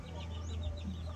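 Yellow-legged hens on a small chicken farm clucking softly over a steady low background hum, with faint, brief bird calls rising and falling at moderate distance.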